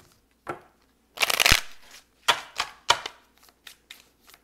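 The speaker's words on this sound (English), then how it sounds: "I'm going to shuffle." Tarot cards riffle and shuffle in quick bursts, a long flurry followed by several shorter snaps and slides, close by with no talking.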